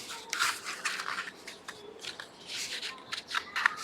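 Paper packaging box folded by hand, with quick crisp crackles and creases of paper coming in irregular bursts, close and fairly quiet, with no talking.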